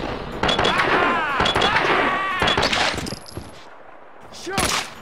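AK rifle fire in the Max Payne 2 video game, rapid loud automatic bursts with echoing tails, a pause, then one more sharp shot near the end, no clear talk.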